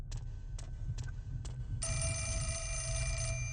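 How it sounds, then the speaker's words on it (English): Telephone ringing in the horror video game Fatal Frame 4: Mask of the Lunar Eclipse, a few short bell-like rings followed by a sustained electronic ringtone tone, heard alone over a low ambient hum. "I guess we gotta answer the phone."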